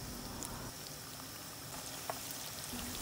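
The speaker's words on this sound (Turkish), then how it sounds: "Şimdi havuçları kızartıyorum." Carrot slices frying in hot oil, a steady close sizzle and crackle with occasional tiny pops, no voices.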